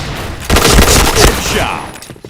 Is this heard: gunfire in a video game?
yes